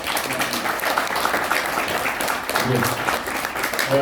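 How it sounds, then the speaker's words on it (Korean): A seated crowd at a multicultural community charity event gives sustained, dense applause after a speech, the clapping steady and loud throughout with no gaps. "다시 한번 큰 박수 부탁드립니다"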